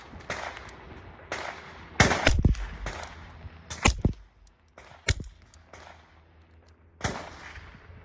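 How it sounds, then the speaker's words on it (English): Shots from a Ruger Mark II pistol fitted with a solvent trap suppressor, some standard rounds and some quiet rounds: a series of sharp cracks at irregular intervals, a few louder and boomier than others, close and without talk. "I'm going to fire 2 rounds of standard and then 2 rounds of quiet."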